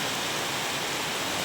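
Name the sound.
heavy rain falling at night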